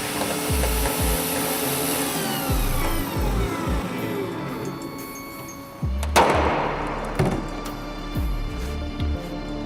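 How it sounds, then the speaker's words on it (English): A power drill bores out stuck screws on an access panel of an RAF Canberra bomber under restoration, giving repeated short whirring bursts with a sharper, louder grinding stretch midway. "Drill them out."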